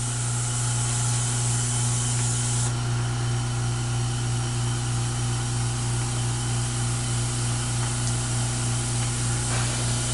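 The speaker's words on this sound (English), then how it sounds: "fire up the air compressor here" Compressed air hisses continuously from the nozzle of a simple coolant system at around 10 PSI, a loud steady spray with an air compressor humming underneath, unbroken for about ten seconds.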